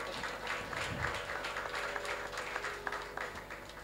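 An audience at a concert honoring S. Balachander's birth anniversary claps in a continuous, fairly soft patter of many hands, steady and indoors throughout.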